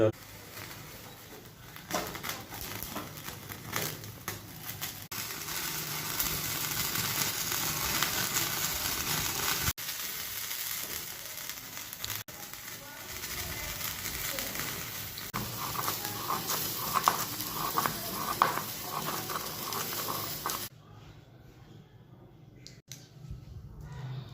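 Eggplant coated in mustard oil roasting over a gas flame, a steady hiss and crackle that runs under speech for about twenty seconds and then cuts off, leaving quiet.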